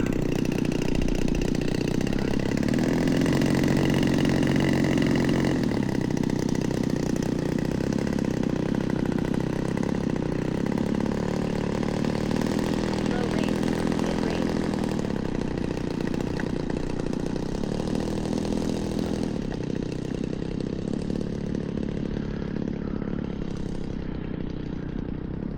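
A glow-fuel engine on a Legend Hobby 81-inch Super Chipmunk RC plane with a Stinger 40 idles steadily and close by, a constant buzzing drone at even loudness throughout with slight shifts in pitch.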